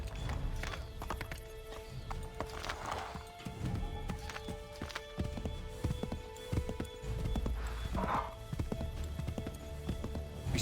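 Horse hooves clip-clop in a steady rhythm in the video game Assassin's Creed III, a quiet, close gait with occasional louder steps and a brief snort or whinny over faint ambience.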